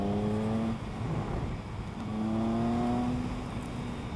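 Motorcycle engine accelerating through a curve, its whining tone rising in pitch, dipping briefly, then climbing again, loud and close with steady wind rush throughout.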